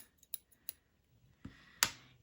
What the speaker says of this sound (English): a good pair of scissors